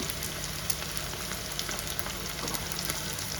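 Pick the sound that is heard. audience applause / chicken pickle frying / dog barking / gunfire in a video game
chicken pickle frying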